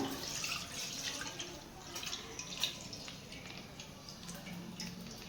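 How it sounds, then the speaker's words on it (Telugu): Milk pouring into a pan on a lit stove, a steady soft liquid trickle with small drip-like splashes throughout, close and fairly quiet, no voices. "ఇప్పుడైతే పాలు పోసేస్తున్నాను."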